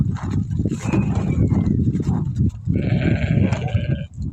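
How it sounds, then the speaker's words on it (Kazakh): Several sheep bleat close by in overlapping, wavering calls, with a short lull in the middle before more bleating, on a cold, windy farm. "Мінекей қойлар"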